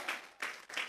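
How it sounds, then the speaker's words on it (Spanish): A church congregation at a Sunday service claps their hands in three quick swells of dense applause, brief and moderately distant. "vamos a regalarle ofrenda de palmas al Dios de la gloria"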